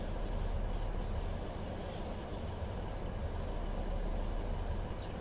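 Class 150 diesel train in Train Simulator 2015 on the Riviera Line, rumbling steadily as it pulls into a siding, with continuous rolling wheel noise and faint high squeal throughout, no voices.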